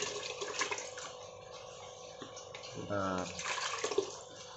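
Water poured into a container for an Artemia (brine shrimp) culture, a short gushing pour around the middle under steady background noise, with someone speaking briefly.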